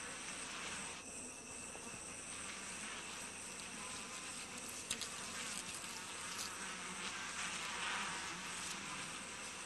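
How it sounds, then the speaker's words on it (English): Tiny stingless sweat bees swarm around a wild honey nest's wax entrance in the Congo rainforest, a steady, dense, high-pitched buzzing that hums close by without pause. "The tiny sweat bees have no sting, but they get into eyes and up noses."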